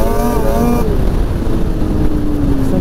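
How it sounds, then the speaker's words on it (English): A 2005 Polaris Fusion 900 snowmobile engine runs loud and close, a steady throaty roar with a pitch that dips slightly as the revs settle. "Very snappy motor. This thing's kind of loud."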